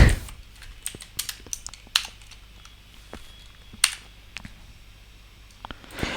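Keys tapped on a computer keyboard while writing code, a sparse run of close, soft clicks with short pauses between bursts, heard alone with no talk.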